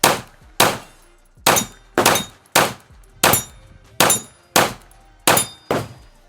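Ten evenly spaced shots from a Palmetto State Armory Dagger Micro C-1 pistol ring out loud and close, each followed by a short decaying ring from steel targets, with no talking.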